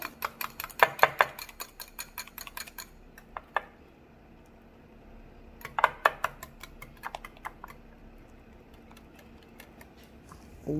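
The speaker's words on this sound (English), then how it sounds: "So keep whisking." Egg whites being whisked into meringue in a bowl, quick bursts of rapid clicking strokes separated by quieter pauses, close and fairly light, with no talking.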